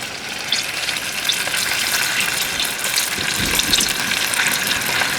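Burgers frying in a pan at a wild camping spot, a loud steady sizzle and crackle close up, with no one talking.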